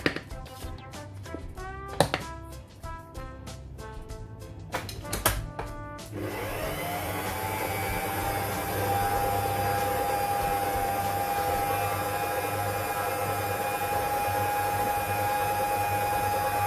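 Electric mixer whirring steadily as it mixes coconut cake batter, starting with a mix of clatter and short pulses, then settling into a continuous loud motor drone that rises slightly in level partway through.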